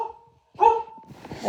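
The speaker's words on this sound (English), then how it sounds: "I apologize for the barking" A dog lets out a single clear bark, moderately close and loud, rising out of near silence and leaving a faint room tail behind it.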